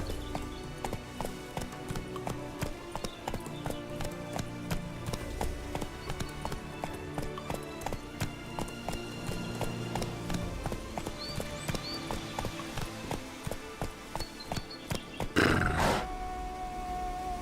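Roach, a horse in The Witcher 3, gallops with steady rhythmic hoofbeats over a music bed, then gives a loud, brief neigh near the end.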